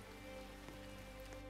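Steady rain falling in the Roblox Brookhaven video game, a soft, continuous patter with scattered droplet ticks, faint and even throughout.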